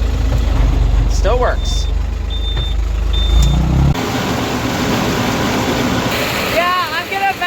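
Farm tractor on a dairy farm firing up and running with its PTO engaged, a low engine rumble that shifts into a steadier running drone while someone talks nearby.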